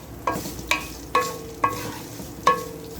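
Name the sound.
garlic and coconut frying in pan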